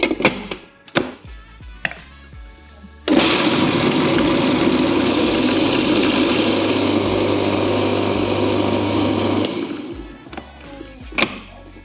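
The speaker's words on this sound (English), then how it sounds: "So all our ingredients are in the food processor, and off we go." A food processor whirring through Egyptian falafel (taamiyah) ingredients, a loud, steady motor drone that starts abruptly, runs for several seconds, then cuts off, with clatter before and after.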